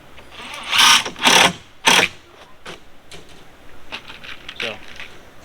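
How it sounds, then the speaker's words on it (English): A drill drives screws into the bottom shelf of a simple beginner workbench, with three short, sharp whirring bursts close up, then fainter clicks and taps trailing off. "continue running the screws down on the bottom shelf"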